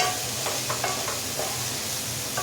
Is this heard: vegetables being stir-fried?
yes